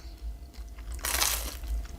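Someone bites into double-fried food straight from the fryer, producing one close, bright crunch burst that lasts about half a second, with quieter chewing noise before and after.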